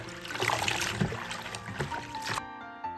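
Fresh Bidens pilosa herb pieces rinsed in clean water, a steady splashing and sloshing that runs for about two seconds before cutting off abruptly into near quiet.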